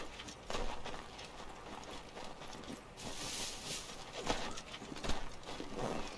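Horse hooves clip-clopping in the Assassin's Creed III video game, a steady walking rhythm of close, moderately loud hoofbeats with occasional brighter accents.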